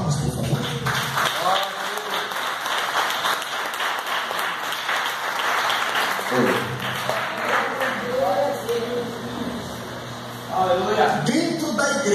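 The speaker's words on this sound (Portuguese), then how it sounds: "Vocês podem aplaudir e ouvir as palmas, por favor?" Sustained applause fills a church congress service, a dense steady clatter of many hands for about six seconds, then thinning as someone speaks over it.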